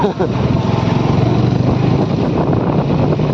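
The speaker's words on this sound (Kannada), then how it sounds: "ಓ ಕಡೆ ಅಕ್ಕ ಇಸ್ ರೈಡಿಂಗ್ ಬೈಕ್" A motorbike ridden by a woman near a temple in Dharwad, Karnataka, its engine droning steadily and loudly up close for a few seconds with no pauses.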